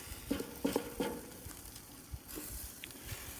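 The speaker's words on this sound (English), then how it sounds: "Just kind of stir that rice all in there amongst all that onion and mushroom juice" Rice being stirred into onion and mushroom juice on an Old Smokey grill, with a few scraping utensil strokes early on over a steady sizzle that carries on alone afterward.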